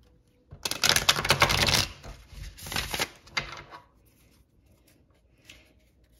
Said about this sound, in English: so I'm going to give it a nice shuffle.